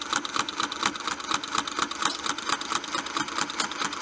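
Sewing machine stitching with a Westalee Spin e fex 2 ruler, a close, steady rhythmic whirr with fast regular pulses running without pause.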